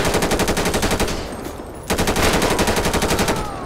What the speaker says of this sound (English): All because that stupid guy starts shooting.